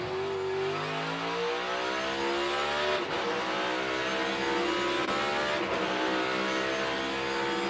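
A NASCAR Cup race car laps Circuit of the Americas in Texas during 2022 practice, its loud engine roaring continuously and nearby, pitch climbing and shifting through gear changes.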